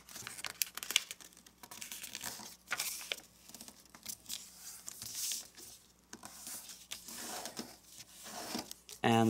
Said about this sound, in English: let's fold the bottom edge to the crease